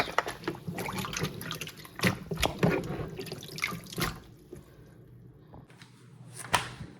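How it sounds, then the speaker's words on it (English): Water drains off blanched green beans in a kitchen strainer: irregular splashes and trickles burst close by, ease into a quieter drip, then one more splash near the end. "Let some of that water run off before we get them put in jars."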